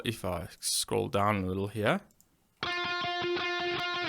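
An electric guitar plays through a virtual guitar amplifier, a sustained, slightly distorted chord ringing for the last one and a half seconds. Someone speaks briefly just before it, then pauses.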